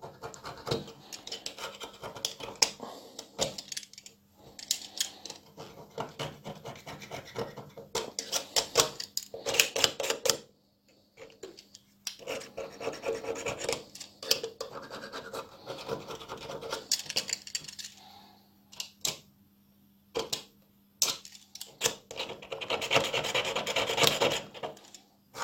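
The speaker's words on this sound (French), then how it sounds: "On gratte. On nettoie la portée en fait." A scraper rasps across the gasket seat of a Briggs Quantum lawn mower engine, giving repeated close scratchy strokes in irregular bursts with short pauses between them, and no one talks.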